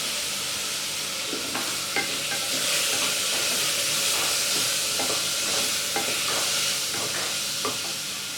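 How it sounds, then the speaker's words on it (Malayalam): Spice powders sautéed in a pan over a medium flame for masala oats, a steady sizzle with repeated scraping strokes of a spatula stirring close by. "പൊടികളുടെ പച്ചമണമൊക്കെ ഒന്ന് മാറി വരുന്നവരെ ഒരു മീഡിയം ഫ്ലെയിമിൽ വെച്ച് നന്നായിട്ട് വഴറ്റാം"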